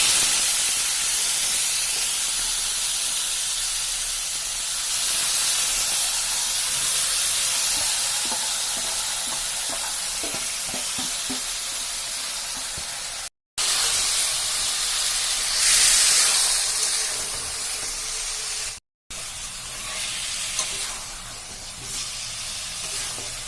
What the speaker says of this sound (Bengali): 10 মিনিট পরে ওই চিকেন পুরোটা কড়াইতে ঢেলে দেবো